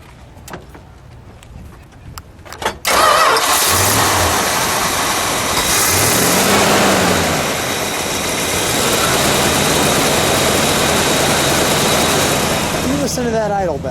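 A green 1972 Plymouth Road Runner GTX with a 440 engine idles steadily and somewhat high after starting up, a loud continuous rumble close by, with someone speaking briefly over it.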